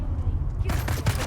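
Bursts of gunfire in the sci-fi survival game Dune Awakening, a quick volley of shots that starts abruptly partway through, fairly close and loud over a low rumbling game backdrop.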